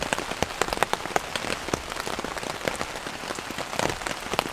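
Steady rain falls on a campsite, a dense patter with many sharp individual drops striking nearby surfaces, continuous and fairly loud with no voices.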